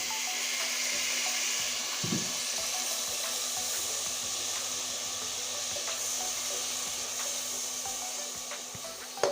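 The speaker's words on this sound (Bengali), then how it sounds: "তখন আমি সামান্য একটু জল দিয়ে দেবো নাহলে মশলাটা পুড়ে যাবে" Water added to spice paste frying in a pan for a potato, bitter gourd and fish head curry, giving a continuous close hiss and bubbling wash of sound that holds steady throughout.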